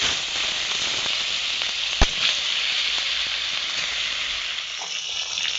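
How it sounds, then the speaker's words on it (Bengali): Pieces of silver carp fish frying in a pan of mustard oil, a steady close crackling sizzle with a sharp pop near the middle and scattered spits, no voices. "এবার সেই কড়ার মধ্যে সিলভার কাপ মাছগুলো ভেজে নেব।"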